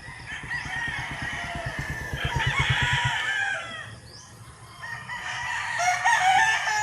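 Chickens on a farm in the morning: a rooster crows loudly and nearby while other birds cluck and call, with a second burst of crowing and squawking a few seconds later.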